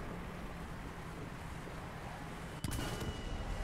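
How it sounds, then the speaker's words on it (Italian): A bomb goes off in the War Thunder tank game with one sudden sharp blast, followed by a louder rumbling roar over a constant wind-like background noise. "Queste bombe non mi piacciono"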